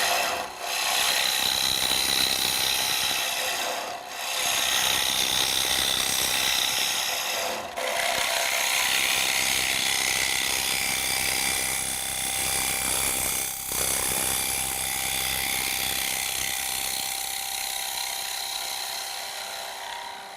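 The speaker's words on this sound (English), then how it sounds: "in traditional scraping mode, material can be moved very rapidly" A Robert Sorby TurnMaster scraping wood on a lathe in traditional scraping mode, giving a continuous close rasping hiss over a steady motor hum with a few brief dips, and no voices.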